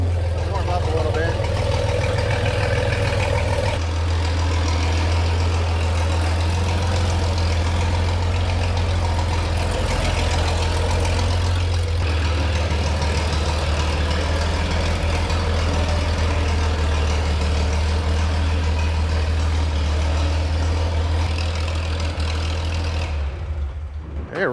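A 1968 GMC C2500 pickup with a big block V6 idles while warming up, a loud, steady low rumble that carries on without a break, with voices talking faintly beneath it.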